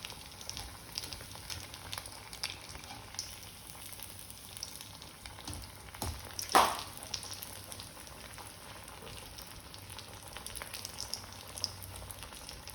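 Vada for Mumbai vada pav frying in hot oil, a steady soft sizzle throughout with one brief louder burst partway through, no talking.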